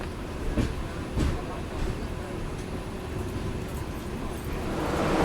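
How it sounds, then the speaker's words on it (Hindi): Brindavan Express train pulling into Chennai Central station, a steady low rumble with rhythmic clatter and a few knocks, swelling slightly toward the end, with voices murmuring in the background. "वृंदावन एक्सप्रेस आके पहुंच चुका है।"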